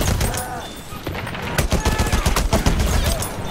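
Dense, rapid bursts of video game gunfire crackle loud and close, with overlapping shots piling into a continuous fusillade.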